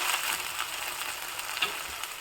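Okra (bendekayi) frying in a pan, a steady close sizzle with faint stirring clicks, no voices.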